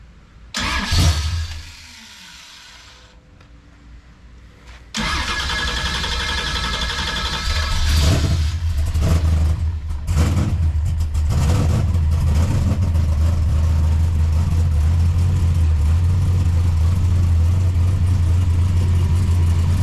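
A car engine cranks and catches, then settles into a loud, steady idle with occasional revs rising and falling, no voices.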